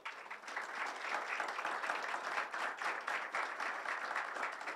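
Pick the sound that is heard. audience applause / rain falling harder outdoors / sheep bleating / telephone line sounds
audience applause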